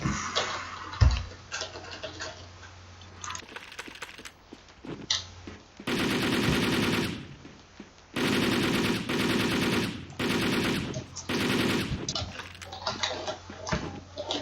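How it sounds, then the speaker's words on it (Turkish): Gunfire in the online shooter Wolfteam, with bursts of rapid shots in clusters from about six seconds on, loud and close, trailing off into scattered single shots. "Adam tekli atıyor bana."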